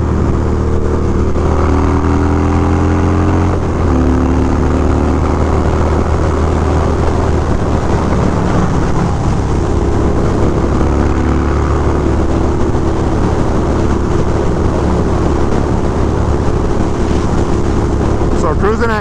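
A Harley Dyna Low Rider motorcycle fitted with a Dynojet tuner cruises in third gear on a busy road, its engine a loud continuous low rumble with heavy wind noise, and a voice talks over it.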